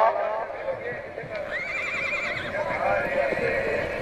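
A horse whinnies amid a noisy outdoor crowd at a horse and tent-pegging festival in Punjab, its rising, quavering call standing out midway over steady background chatter and an announcer's voice.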